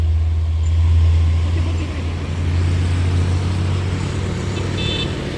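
Mitsubishi Fuso truck engine on a hill, a loud steady low drone that swells slightly as it accelerates and holds close to the microphone, with no talk.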